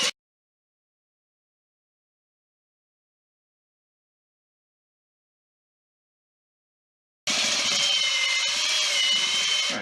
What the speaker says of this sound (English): We're going to mix it at a high RPM for about a minute or two until everything is color consistent,